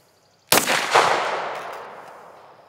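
A single sharp Glock pistol shot cracks loudly, followed by a long echoing tail that fades out over about two seconds, with no voices.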